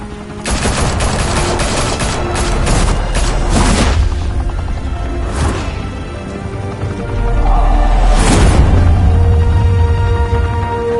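Loud, rapid gunfire in a Batman video game erupts in clustered bursts with booming impacts, then sharp isolated shots ring out amid a heavy, reverberant din.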